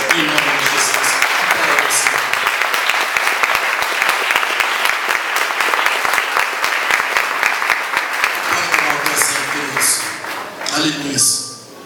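A church congregation at a worship service applauds loudly and continuously, a dense wash of clapping that fades slightly near the end, with voices calling out over it.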